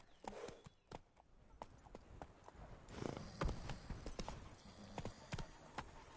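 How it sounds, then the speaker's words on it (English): A horse's hooves clip-clop at a steady gallop across ground in the video game The Witcher 3: Wild Hunt, heard close and continuous with a few faint game sounds behind. "Even a horse drops if you ride it at a constant gallop."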